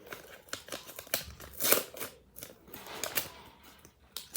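Crinkly plastic rustling and tearing close by, with irregular bursts of crackling handling noise over a few seconds.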